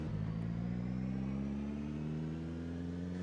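A car engine idles and runs steadily in Project Zomboid, a low continuous hum with a slight shift in pitch, moderately quiet and heard alone without talk.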